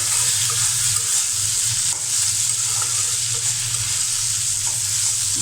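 Potatoes frying in a pan give a steady, even sizzle with faint stirring scrapes, loud and close throughout with no talk.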